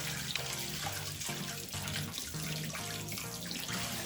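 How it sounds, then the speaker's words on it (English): Running water from a tap splashes steadily while abalone is scrubbed with a toothbrush in a sink, rhythmic scrubbing pulses audible under the flow at close range. "I will wash this clean with a toothbrush"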